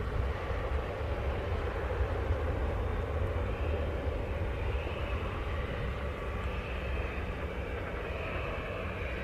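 Airbus airliner landing at Montego Bay airport, Jamaica, a steady broad engine roar heard from a distance, holding level and unbroken throughout with no voices.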